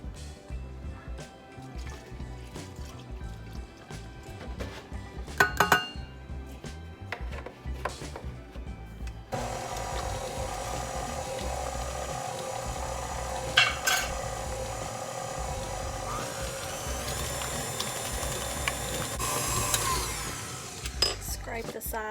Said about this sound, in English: now we're going to put 1/2 cup of milk in and mix it until combined